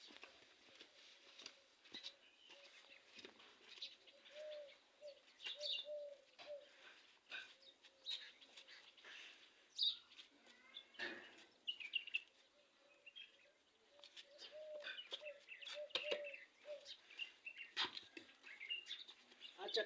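Sparrows chirp outdoors while being fed roti, with many faint, quick chirps scattered throughout and a soft, steady cooing in the background.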